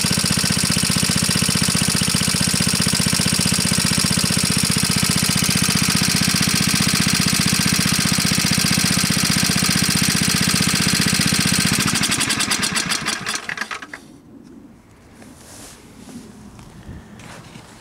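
An antique Onan PE-88 Signal Corps generator engine runs at a steady, loud, rapid chug, then slows and dies away near the end, leaving only a faint low rumble.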